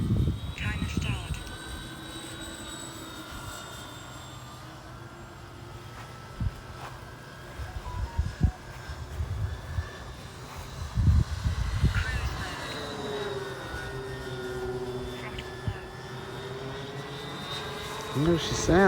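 A 1700mm FlightLine F7F Tigercat RC model plane flies overhead, its twin-engine drone steady and fairly distant, with a rising pitch sweep as it passes; people talk over it and wind buffets the microphone.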